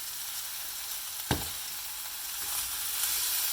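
Sweet peppers and aubergine sizzling in olive oil in a pan, a soft continuous frying hiss with one sharp knock partway through and the sizzle building slightly at the end, no talking.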